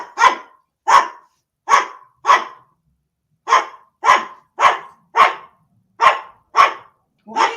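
Loud, close dog barking repeating in a steady rhythm, about a dozen sharp barks with one short pause partway through and no talking.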